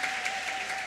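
Audience applause at a youth event, a brief burst of steady clapping from a crowd, fairly faint and even throughout the short moment.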